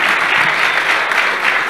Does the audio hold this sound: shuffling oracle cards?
no